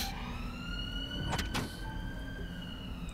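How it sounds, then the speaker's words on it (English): A siren in the party video game Pummel Party gives a few brief rising and falling wails in the middle, heard over a steady game music and noise bed, with no talk. "There's a siren."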